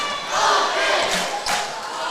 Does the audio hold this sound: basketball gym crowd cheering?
yes